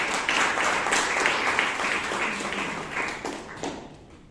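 Members at a Toastmasters club meeting in Bangalore applaud, a fairly close crowd clapping with distinct individual claps in the mix, tapering off toward the end.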